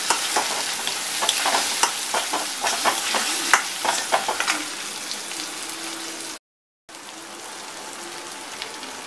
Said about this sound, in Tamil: மாங்காயை இதில் கொஞ்சம் நல்லா வதக்கிடணும்.